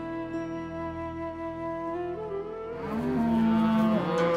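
Cows moo in the strategy game Field of Glory: Kingdoms, a drawn-out low bovine call that rises and swells louder near the end, alone without talk.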